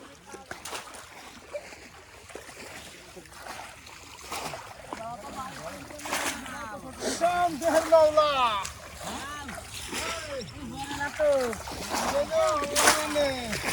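Bamboo polo fish traps plunge into lake water as villagers fish in winter, with repeated splashes and sloshes at close range under ongoing chatter and voices.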